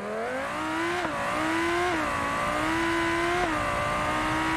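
A Scintilla car accelerating hard in BeamNG, a loud high-revving engine whine climbing steadily through several quick gear shifts, close and continuous with no talking.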